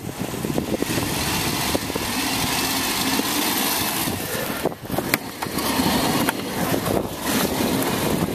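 A Range Rover engine revs and strains while stuck high-centered in a parking lot, a continuous rough roar with brief dips and surges, fairly close, with no talking.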